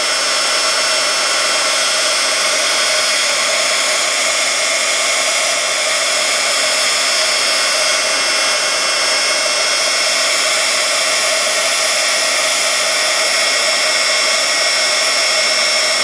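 A heat tool blasts continuously while melting Ranger embossing powder, a loud steady hairdryer-like roar with a constant whine and no pauses.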